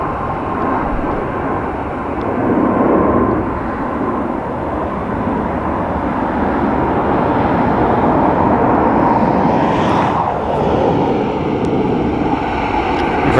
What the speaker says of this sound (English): Very quick stop for that, Aer Lingus.